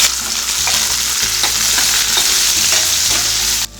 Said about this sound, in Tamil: கடுகு வெடிக்கட்டும் இது கூடவே உளுந்து சேர்த்துக்கலாம் இது கூட பொடியாக கட் பண்ணி வச்சுருக்க சின்ன வெங்காயம் சேர்த்துக்கலாம் வெங்காயம் நல்லா வதங்கட்டும்